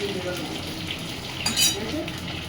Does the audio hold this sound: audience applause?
no